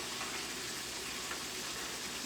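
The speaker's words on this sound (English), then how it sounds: "We're frying some chicken." Steady, dense sizzling and crackling of food frying in hot oil, continuous and fairly close, with no voices.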